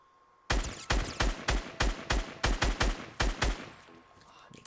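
Rapid bursts of gunfire ring out in a Fortnite Battle Royale match, roughly a dozen loud, sharp shots in quick succession, then the clip tails off into quieter game ambience with no talk.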